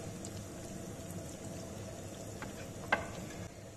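Chopped onion sautés in ghee with cumin in a pan, a soft, steady frying hiss with faint stirring and one brief clink near the end, heard alone without talk.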